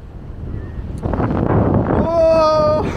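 Wind buffets the microphone outdoors on the water near a boat, a rough rushing roar that swells over a few seconds, with a voice and whistling tones over it.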